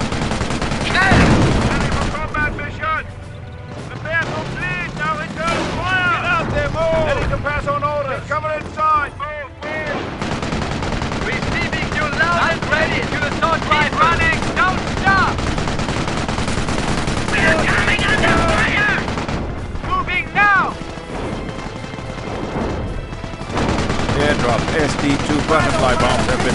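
Rapid bursts of machine gun fire and rifle shots crackle through a World War II battle at Oosterbeek in the game Company of Heroes, loud and sustained, with soldiers shouting over the gunfire and occasional explosions.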